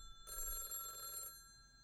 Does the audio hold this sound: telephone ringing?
yes